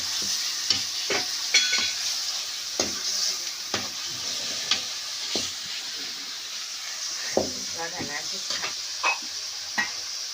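Spinach and dill greens, tempered with garlic and cumin, sauté in a pan over a wood-fired stove. A moderate sizzle runs beneath repeated sharp scrapes and taps of a spatula stirring the greens.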